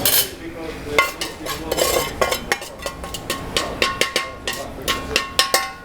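Icing sugar is scraped out into a metal mixer bowl with a utensil, giving a run of sharp clinks and scrapes in an uneven rhythm that grows more regular toward the end.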